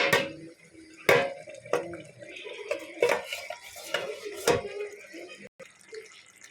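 Metal lid and pot clatter as a cooking pot of jackfruit prawn curry is covered and checked, with several sharp clanks and scrapes spread over a quiet kitchen background.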